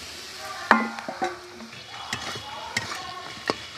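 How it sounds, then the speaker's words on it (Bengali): Spiced masala with turmeric, chili powder and fried fish heads is stirred in a pan, soft sizzling under scattered sharp spatula scrapes and clinks against the metal, fairly close, with no talk. "একটু ভালো করে কষিয়ে নেব।"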